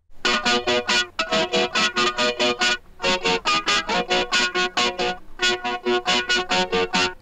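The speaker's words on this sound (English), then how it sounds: "I used the Vox amp and the standard signal chain to get it done." Guitar chords played through a Vox amp with a standard signal chain, bright and dense in the upper register, sounding as a steady rhythmic pulse of strums with two short gaps, loud and alone.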